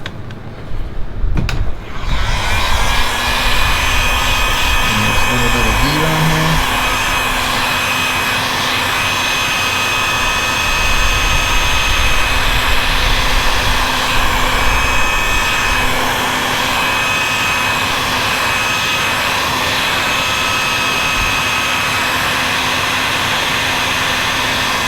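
A heat gun runs steadily and loudly, blowing hot air onto a car radio touchscreen during an installation in a Subaru WRX, as a continuous whirring roar that starts after a brief click and holds for the rest of the clip.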